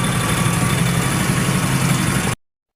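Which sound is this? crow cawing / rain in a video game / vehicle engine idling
vehicle engine idling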